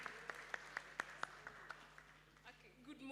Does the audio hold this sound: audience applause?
yes